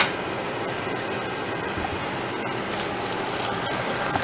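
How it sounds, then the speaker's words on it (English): Water pours steadily into a pot of rice being cooked, making a continuous close splashing trickle that holds even for the whole stretch with no talking. "So then we will go ahead and we will add some water."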